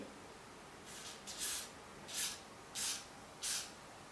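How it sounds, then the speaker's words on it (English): Four short hissing bursts of hairspray from an aerosol can, close by and fairly quiet, each lasting about half a second with brief pauses between. "I'm just gonna shake this a bit and I'm just gonna spray"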